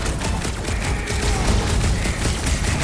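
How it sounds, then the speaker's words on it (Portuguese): A fireworks attack crackles in the Guardians of the Galaxy video game, a dense, continuous barrage of popping bursts and booms that stays loud for a few seconds. "Aí, Quill, quer ver uns fogos de artifício?"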